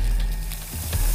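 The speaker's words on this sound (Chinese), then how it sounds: "趁油温将鲫鱼的两面煎至金黄色" A cleaned crucian carp pan-fried in hot oil until golden on both sides crackles and sizzles in short, close bursts.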